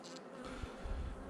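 Honeybees hum and buzz softly on a frame pulled from a beehive, a continuous faint drone close by with no talking.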